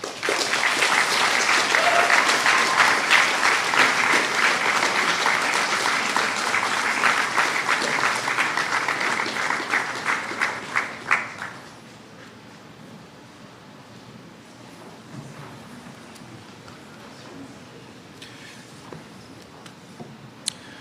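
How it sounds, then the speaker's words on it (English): A high school graduating class at a 2023 commencement applauds their families, a loud, sustained wash of clapping that cuts off sharply around midway, leaving quiet room tone with a few scattered claps. "The class will now extend a round of applause as a gesture of thanks."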